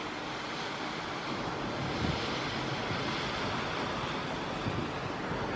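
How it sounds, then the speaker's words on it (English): Steady, broad wash of ocean waves rolling in, heard from a quiet hotel balcony at Tokyo DisneySea in Japan, continuous and even with a soft wind-like hiss and no talking. "You just hear the sound of the ocean"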